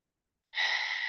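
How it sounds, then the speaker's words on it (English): A single deep breath drawn slowly during a guided meditation, an airy exhale-like whoosh that starts abruptly after a moment of silence and sustains close and steady to the end. "So I invite you to take a deep breath again."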